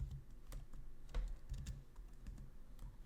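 Fast, uneven typing on a computer keyboard, a close run of light clicking keystrokes with brief pauses, faint low room hum underneath, no talking.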